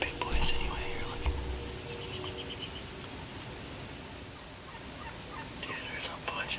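Several wild turkey toms gobble in the distance on a spring morning in Nebraska, bursts of rapid rattling calls at the start and end over a faint breezy hiss.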